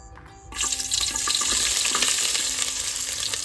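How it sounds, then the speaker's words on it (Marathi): Onions for a spicy mutton curry dropped into hot oil on a village wood-fired stove burst into a loud, sudden sizzle after a brief quiet moment, then keep hissing steadily and close. "हे तेल तापल्यानंतर आपल्याला यामध्ये हा जो कांद्याचा प्रकार आहे हा कांद्याचा प्रकार आपल्याला यामध्ये टाकायचा आहे"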